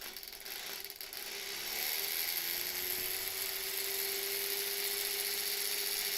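A sewing machine winds its bobbin with the needle disengaged, a steady high whir that speeds up and holds at full speed, close and continuous with no talk.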